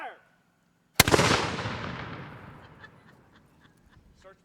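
A black-powder cannon fires once at a historical reenactment, a sudden loud boom with a long rolling decay over several seconds, preceded by a brief shouted command and followed by faint scattered sounds.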